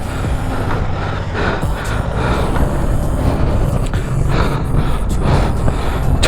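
A vehicle engine strains uphill on a snowy mountain road in North Sikkim during a winter ride, a loud continuous roar with rumbling and rattling that stays steady throughout.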